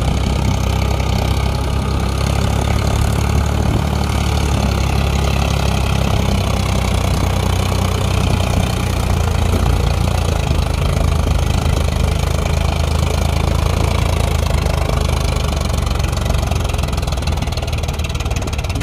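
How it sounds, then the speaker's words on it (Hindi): Farmtrac 45 tractor pulling a fully loaded trolley at full power, a loud, steady, deep diesel engine drone that runs continuously without letup. "Farm track 45 full loading trolley के साथ और फुल पावर के साथ है।"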